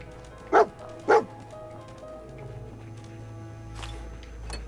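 Two quick, close barks from Dogmeat, the dog companion in the Fallout 4 game, come early and in fast succession, followed by quiet game ambience with faint clicks and tones.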